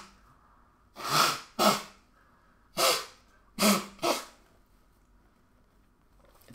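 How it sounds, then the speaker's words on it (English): Five sharp, breathy sneezes from a person who is sick with the flu, arriving in a loose burst of two, one, then two, each loud and close with quiet pauses between. "I gotta sneeze"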